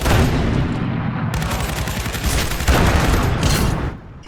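Dense, continuous gunfire from combat in the Iron Harvest strategy game, with rapid overlapping shots and bursts forming a loud, unbroken barrage that swells and drops briefly near the end.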